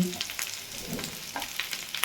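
Soft crackling and bubbling of cauliflower frying in oil, faint and steady with occasional louder pops.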